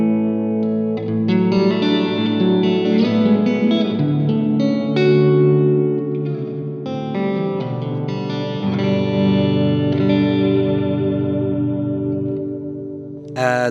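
Electric guitar notes and chords, through a Seymour Duncan Dark Sun delay and reverb pedal with delay feeding the reverb, ring out drenched in echoing repeats, each phrase trailing into a wash, loud and continuous with no talking.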